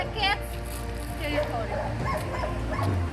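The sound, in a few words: stray dogs barking in a street in Kherson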